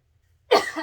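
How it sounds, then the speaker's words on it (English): A single sharp cough breaks out after a moment of silence, close and fairly loud, then trails off raspily. "the coughing spell because I inhaled it."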